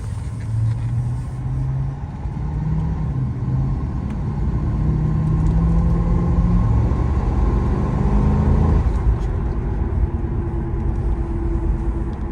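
A 1996 Chevrolet Impala SS with a big V8 driving down a road, its engine a loud, close, steady rumble that climbs in pitch through the gears and shifts audibly partway through, with no talk over it.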